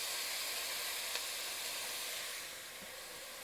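Onions added to a pot for minestrone soup start sweating on medium-low heat, a soft even sizzle and hiss, fairly quiet and steady, easing slightly toward the end, no talk.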